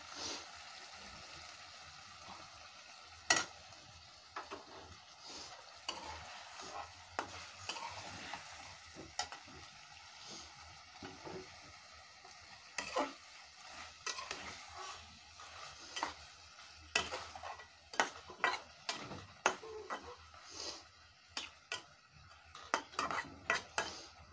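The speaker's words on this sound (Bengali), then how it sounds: "এখন আমি মাছগুলো দিয়ে দিলাম আর আস্তে করে নেড়ে দিব" Stinging catfish (shing fish) cooking with tomato in a frying pan, stirred gently: continuous sizzling with repeated scraping and clinking of a utensil against the pan, steady and close throughout.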